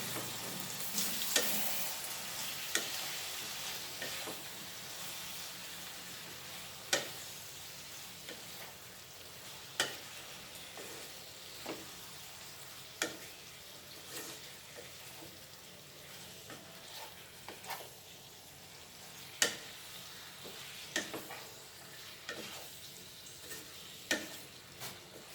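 Goan beef fry being stirred in a pan, a steady sizzle broken by regular sharp clicks of the spoon against the metal, close and fairly quiet, with no talking.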